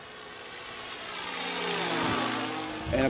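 A Banana Hobby AT-6 RC model plane plays its simulated engine sound in flight, a steady droning hum that swells gradually and stays moderately faint, with a brief louder burst at the end.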